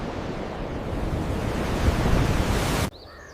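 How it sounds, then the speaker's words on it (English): Loud, continuous roar of ocean surf crashing against the Old Man of Hoy sea stack in Orkney, building to a heavy crash, then cutting off abruptly into near quiet with faint high chirps. "The Old Man of Hoy stands tall against crashing waves."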